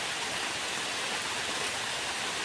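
Steady rain falls outdoors in a continuous, dense hiss that stays even and fairly loud throughout, with no voices over it.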